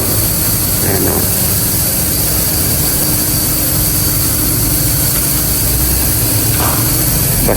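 A used motorcycle, a wedding gift, runs with a steady, loud engine drone throughout, a broad continuous rumble with no clear revving.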